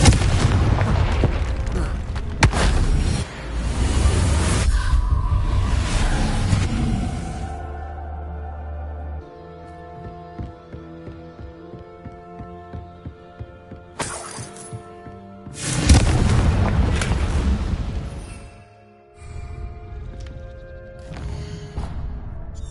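Confringo fire spell blasts in the game Hogwarts Legacy: repeated loud booming explosions with shattering debris, separated by quieter stretches of game music and effects, then another heavy burst of blasts.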